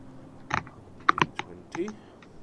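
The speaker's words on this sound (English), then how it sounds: "My typing is incredibly slow today" Keystrokes on a computer keyboard in short clustered bursts of clicks, moderately close, during a tabletop Dungeons & Dragons session, with faint talk in between.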